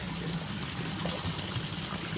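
Running water trickles steadily into a trout fish tank, a low, continuous flow with a faint liquid texture at moderate loudness, no voices.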